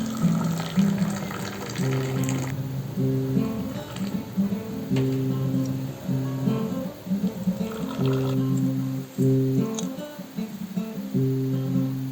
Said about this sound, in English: Pour le mélange du thé avec le sucre.